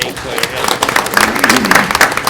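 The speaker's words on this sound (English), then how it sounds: "give a round of applause for Jane" Audience applause at a regular school board meeting, a loud, close burst of clapping with sharp individual claps, while a voice speaks over it.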